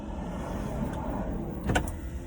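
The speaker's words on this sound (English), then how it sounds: "I'm going to close the windows" Car power windows closing while parked in a busy school pickup line, a faint electric motor whir under steady interior rumble, ending in a brief thump as the glass seals.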